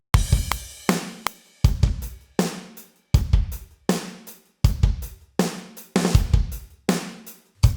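A simple drum beat repeats in a steady rhythm, with punchy kicks and crisp snare and cymbal hits, played alone with no other instruments.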